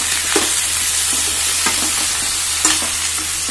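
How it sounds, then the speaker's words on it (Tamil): Brinjal (eggplant) pieces sauté in a hot pan for a Tamil podi curry, giving a steady loud sizzle with scraping stirs and a few louder clatters. "ஸோ இது நல்லா வதக்கிக்கோங்க."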